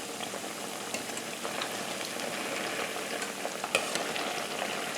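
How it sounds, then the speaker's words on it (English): Used cooking oil left over from frying chicken sizzles and bubbles in a pan, a steady close crackle with scattered pops and no talking. "we're just going to let it fry until it starts getting pretty brown"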